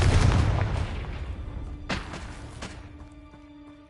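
A sharp blasting spell in the Hogwarts Legacy video game goes off as a booming explosion that decays into rumble, followed by two more short blasts and a faint tonal hum.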